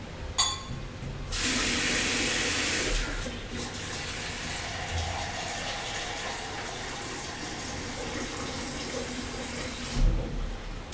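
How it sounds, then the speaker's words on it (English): Water pours from a tap into a stew pot of simmering stock and tomato, a steady rushing splash at moderate loudness lasting several seconds before tapering off, with a brief clatter at the end. "time to add a little water"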